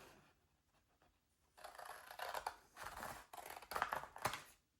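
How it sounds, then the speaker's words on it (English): Scissors snip through a paper file folder being made into a gift box, with several crisp, close cutting strokes in quick succession after a short quiet start and no talking. "let's take our smaller scissors and just angle cut all these tabs"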